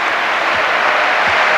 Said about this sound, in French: Très applaudi.